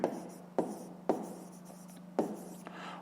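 A pen writes by hand on paper during a maths exercise, giving soft continuous scratching broken by a few sharp taps as the tip lands. The strokes are close and fairly quiet, and no one speaks.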